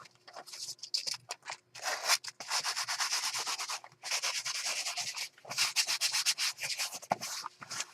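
A fabric crafting pouch is rubbed back and forth over a tacky junk journal page, making close, dry scuffing and sanding-like bursts in several runs with short pauses, with no talking.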